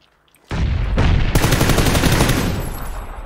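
Gunfire in a video game shooter: a dense, loud, continuous burst of rapid shots right up close, starting abruptly and tailing off slightly at the end, with no talking.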